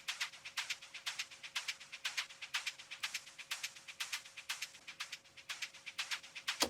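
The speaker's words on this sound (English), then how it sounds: "So we're getting that kind of sloshy, modulating chorus sound" Hi-hats and shakers run through a chorus effect, giving a sloshy, modulating and widened sound: quick, steady rhythmic ticks and shakes repeating throughout, bright and crisp, with no voices.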